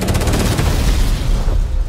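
Explosion in a film scene: loud booming blast with crackling, gunfire-like bursts that roll on and fade out over two seconds, with no voices.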